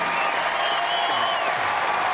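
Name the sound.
applause for the third-place archer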